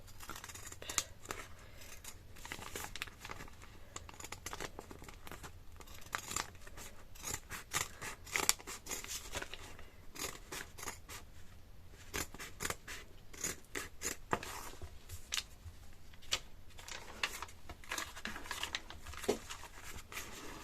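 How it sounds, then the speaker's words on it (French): Large sewing scissors snip through embroidered fabric for a bookmark in a string of quiet, close crisp cuts and small rustles, with no voices. "ciseau de couture, on va l'utiliser. Hein. On va essayer. Je vais découper par transparence."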